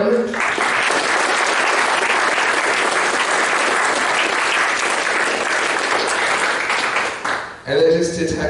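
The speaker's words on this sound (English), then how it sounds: "Let's have a round of applause for them." An audience at a conference closing session breaks into sustained, loud applause lasting about seven seconds before fading, and then a voice begins speaking.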